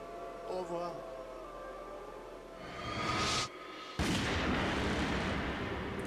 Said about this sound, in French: le coup de feu le plus bruyant de ma vie